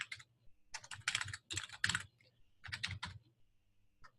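Quiet bursts of typing on a computer keyboard, several quick clusters of close key clicks separated by short pauses, with no talking.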